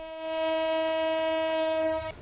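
A train horn at Kamalapur railway station sounds one loud, sustained, steady blast lasting about two seconds before cutting off abruptly, with no voices heard.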